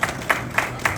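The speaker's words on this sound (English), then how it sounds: "Please give him a round of applause." An audience at a political event claps for a Member of Parliament, four evenly spaced distinct claps within a second, fairly loud and close.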